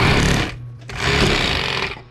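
Sewing machine stitching truck seat upholstery, a loud, steady mechanical whirr in two bursts split by a short pause, with no voices.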